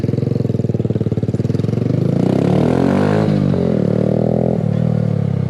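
A Kawasaki Z125 Pro small motorcycle is ridden hard, its loud nearby engine winding up in pitch, dropping briefly at a shift and climbing again, with some rattling clatter.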